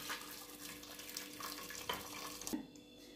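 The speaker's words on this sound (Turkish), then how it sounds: "Şimdi de güzelce üzerine suyunu ilave edeceğiz" Water pouring from a tap into a small pressure cooker while making spinach soup, a steady broadband rush running throughout with a few light knocks and clinks near the end.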